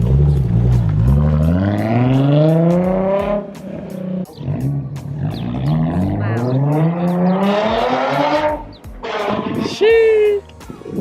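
Nissan NISMO Z with a titanium Tomei dual exit exhaust revving up and down in several long rising sweeps, loud and close, with a short break between pulls.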